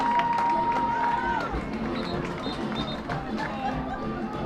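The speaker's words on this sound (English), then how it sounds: "Noah Eidenschenk on a touchdown catch on a 3rd and 35 gets this hometown crowd on their feet" A hometown crowd at a high school football game between the PEM Bulldogs and Triton Cobras makes a broad, steady roar of chatter and cheering, with whistle-like tones and people talking over it.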